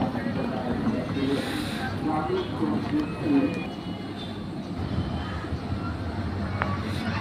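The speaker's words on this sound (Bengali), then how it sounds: "তো এই একটি ট্রেন এটি হচ্ছে মালবাহী ট্রেন কন্টেনার ডিপু বহন করে ট্রেনটি মাত্র যাত্রা শুরু করলো" A container freight train pulls away from Laksam railway junction, bound for Chittagong. It gives a steady low rumble, with a voice talking over it.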